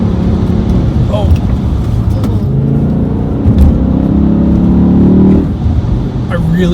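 A BMW E60 M5 accelerates on the road, its engine note rising and droning loudly beneath road rumble while someone talks over it.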